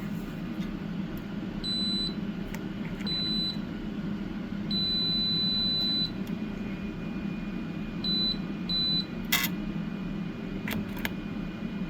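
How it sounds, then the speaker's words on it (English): Short electronic beeps from a voltmeter on continuity mode sound in irregular bursts while contacts on a GE lantern are tested, thin tones over a steady low hum. "get my voltmeter here. And go to continuity."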